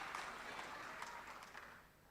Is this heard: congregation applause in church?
yes